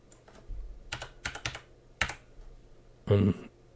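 Bursts of keystrokes on a computer keyboard, a few separate clusters of taps with pauses between them and a sharper clatter near the end, close and fairly quiet.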